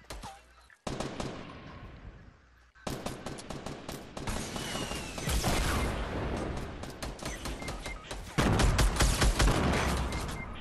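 Rapid bursts of automatic gunfire in the Fortnite Battle Royale video game, loud and near, rattling almost without a break after a short quiet gap, with game sound effects mixed in.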